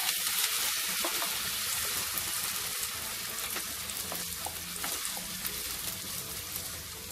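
Tomato paste with Kashmiri red chilli bubbles and spits in a pan, a dense, continuous close sizzle with faint stirring and no talk.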